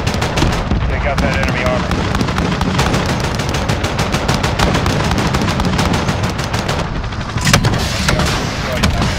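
Helicopter gun fire in Call of Duty Modern Warfare, a long rapid stream of heavy cannon rounds with a louder burst near the end, over a radio voice speaking.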